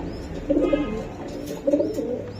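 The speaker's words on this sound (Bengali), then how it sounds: "বন্ধুরা এই যে বাচ্চা সহকারে কবুতর আমি দেখাই দিলাম" Budapest pigeons kept with their chicks coo softly in two short, low bursts over a light background hum, with faint chirps mixed in.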